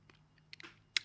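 Chewing gum heard up close as a few soft, irregular wet clicks and smacks in a quiet room, ending in one sharper crackle.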